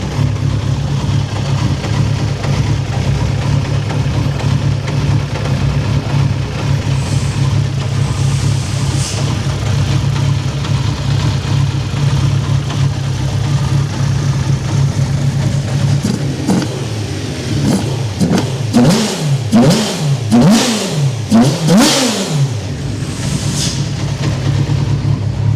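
A loud Micrabusa car engine with a damaged engine idles steadily, then is revved several times in quick bursts, each rise and fall distinct and close by.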